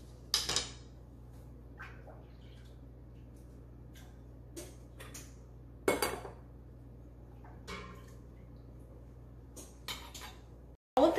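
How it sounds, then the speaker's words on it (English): A wooden spoon end taps and clinks against glass canning jars filled with boiling water for water-bath sauerkraut, scattered sharp knocks spaced a second or two apart, close and alone over a low steady hum. "I'm going to use the end of my wooden spoon, and I'm just going to stick it in a little bit to release any of the air bubbles"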